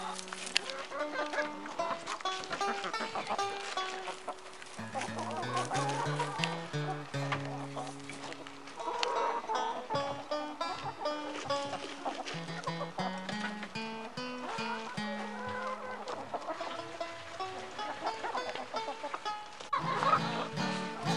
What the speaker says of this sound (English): We're putting away the chickens tonight.